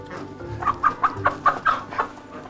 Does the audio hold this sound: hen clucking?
yes